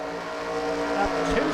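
Race cars at the Monroe racing circuit during a Grand National Series race, a steady droning engine whine with layered tones holding close and loud, with brief low thumps near the end.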